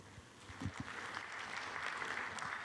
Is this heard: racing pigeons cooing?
no